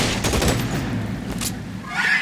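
A shootout in L.A. Noire sends out a rapid burst of gunshots, loud and close, followed by a brief pause and a scattered final shot with a ringing tail.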